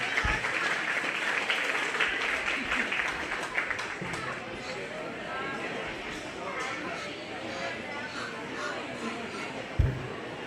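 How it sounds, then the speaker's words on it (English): Crowd applause at the Greene County Fair for two young class winners, a steady wash of many hands clapping that holds for about ten seconds with faint voices mixed in. "I think both those kiddos deserve a nice round of applause for their Pennant 3 accomplishments this year."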